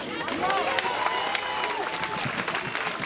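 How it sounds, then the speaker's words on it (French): At a street protest against masks in schools, a crowd claps for a parent speaker, a dense patter of hands with shouted voices and cheers mixed through it. "On applaudit bien fort Christelle"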